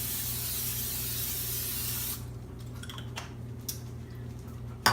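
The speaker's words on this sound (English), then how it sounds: "I'm going to spray this with some cooking spray on the bottom of the" Cooking spray hisses from an aerosol can in one continuous burst of about two seconds as it coats a store-bought pie crust, followed by faint ticks and a small clatter in a quiet kitchen.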